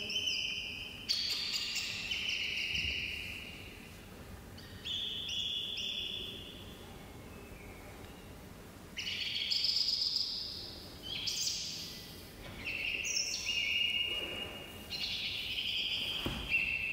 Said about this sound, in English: A song thrush.